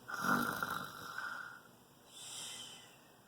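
A voice imitates a turkey snoring with a long, rattling, nasal inhale followed by a softer breathy exhale, quiet and close.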